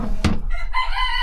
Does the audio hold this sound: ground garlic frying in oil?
no